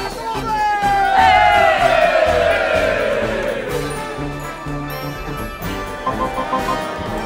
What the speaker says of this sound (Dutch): nog een weer applaus voor je beste mannen